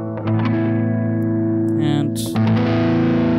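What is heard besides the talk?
Steinberg UR824 drive amp distortion effect on guitar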